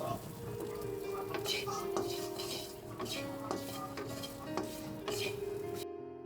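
Small potatoes fry in a pan, a steady sizzle under frequent scraping and clinking of a metal spoon stirring them, close by, before the sound cuts off abruptly.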